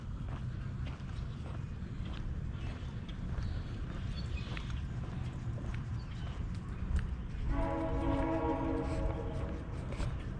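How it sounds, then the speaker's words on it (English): A train passes near a house in Mineola with a sustained horn blast sounding over the steady rumble of the rails near the end, heard from some distance. "I wonder if the train sounds are annoying."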